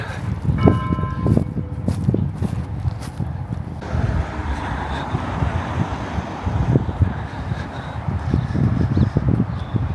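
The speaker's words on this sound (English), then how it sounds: "The bell is a-ringing." A church bell in East Troy, Wisconsin rings a few times early on amid wind noise and nearby traffic, then fades beneath the outdoor rumble.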